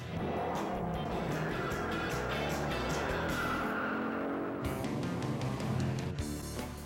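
Powerful American muscle cars roar steadily with continuous engine noise and a screech of tyres on back streets and country lanes, loud and close throughout.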